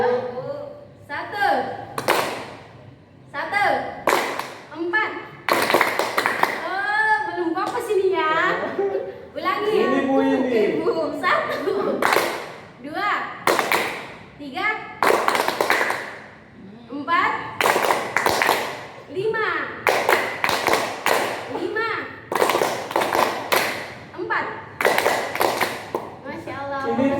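A group in an Indonesian counseling session claps hands in counted bursts while a teacher calls out numbers, sharp clustered claps repeating through the clip alongside a woman's speech, children's voices and chuckling.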